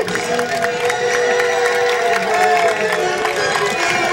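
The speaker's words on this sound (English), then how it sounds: "let's cheer extra loud for the king" A theater audience cheers and shouts steadily, with excited voices and some higher children's yells blending into a continuous, lively roar.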